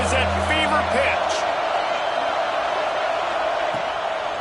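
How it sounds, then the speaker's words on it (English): Stadium crowd noise in a college football video game, a dense, steady roar at fever pitch with brief whoops near the start and commentary over it. "this crowd is at fever pitch"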